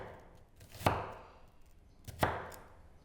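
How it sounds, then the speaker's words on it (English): A knife cuts through an onion on a board, two distinct crisp chops about a second and a half apart, close and fairly quiet with soft rustle between them. "Hold the onion on the stem and cut along the bulb."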